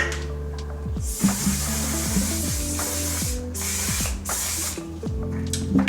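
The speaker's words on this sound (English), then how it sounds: "I'm gonna go in with the Onesize mattifying setting spray" Several quick hissing sprays of a mattifying makeup setting spray burst out in succession, each a short airy spritz with a faint pump click, close up and without speech.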